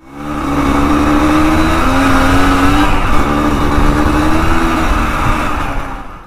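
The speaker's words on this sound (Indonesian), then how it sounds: "Ya memang inilah mesin 2 tak." A Suzuki A100 two-stroke motorcycle engine fitted with a Yamaha FIZR exhaust drones loudly and steadily up close, its pitch climbing and dipping in revs for several seconds.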